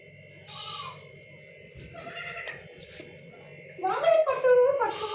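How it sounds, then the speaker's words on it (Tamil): Five-day-old goat kids bleat on a farm, a cluster of loud, close, wavering cries near the end after a quieter stretch with soft voices and rustling. "ஆட்டுக்குட்டி பாருங்க."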